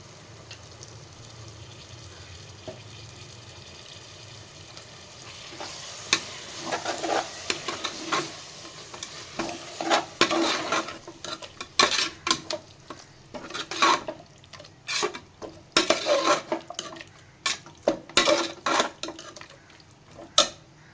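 Stirring and scraping in a pan of frying vegetable biryani as yogurt goes in, with a steady sizzle underneath and a run of clattering utensil strokes that grows busier and louder partway through.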